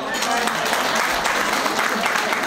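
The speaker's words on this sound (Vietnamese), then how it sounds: "dành cho nữ nghệ sĩ Ngọc Huyền một tràng pháo tay thật lớn ạ" Loud, sustained applause from a crowd at a fundraising event at a pagoda, clapping for a female performer, a dense, even wash of many hands close by, with voices mixed in.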